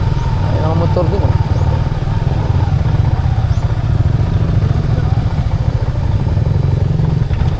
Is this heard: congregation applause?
no